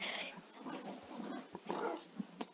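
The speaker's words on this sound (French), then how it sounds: "Regardez les chiens comme ils sont excités." Several excited dogs, including a puppy, whimper, snuffle and make small yelping sounds close by, in irregular bursts over low background noise.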